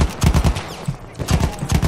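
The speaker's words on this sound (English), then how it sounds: "They're all taking pot shots at me." Rapid gunfire crackles in Battlefield 1 squad gameplay, loud and close, with bursts of automatic shots in quick rhythmic volleys, a brief pause, then more shots.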